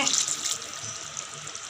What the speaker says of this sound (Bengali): একটু জল দিয়ে দেবো, আর একটু দিয়ে